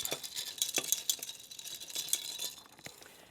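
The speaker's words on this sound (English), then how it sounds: "Now you just take a spoon and you stir this up" A spoon stirs a Caesar cocktail of vodka and Clamato in a glass, giving a few quick light clinks and swishes close by, then trailing off.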